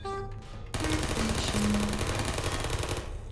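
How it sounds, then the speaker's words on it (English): Portal sentry turrets fire a loud continuous burst of rapid gunfire, preceded by short electronic beeps and tones, with the firing running on until near the end. "I love these turrets so much."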